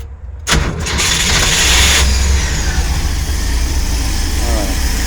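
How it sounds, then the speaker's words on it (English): A 1965 Chevy van engine cranks and catches, then settles into a loud, steady rumble that continues to the end. "I'm going to start up the engine."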